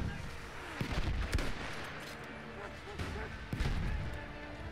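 Artillery bombardment in the World War I shooter Battlefield 1, with repeated heavy blasts and dense battlefield din rumbling throughout, several sharper impacts punching through a constant roar while a voice talks over it.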